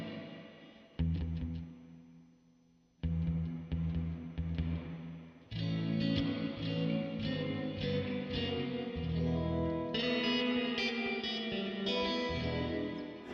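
Electric guitar through a DIY Flick reverb pedal into two tube amplifiers in stereo: chords ring out with lush trailing reverb, then a busier run of picked notes and chords washes together, steady and moderately loud.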